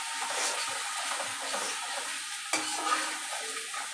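Ground coriander and other spices are stirred in a hot frying pan, with a few close scraping strokes over a soft, steady sizzle.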